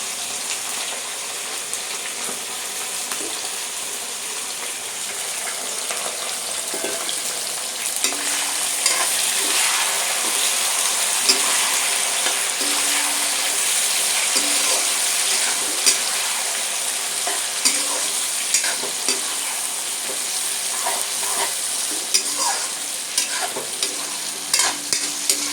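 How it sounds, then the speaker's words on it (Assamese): Chopped onions fry in hot oil for a jackfruit masala, a steady loud sizzle broken by occasional scraping and stirring, with no talking. "পিঁয়াজখিনি গোল্ডেন ব্ৰাউন কালাৰ হ'ব লাগিব ফ্ৰাই হৈ।"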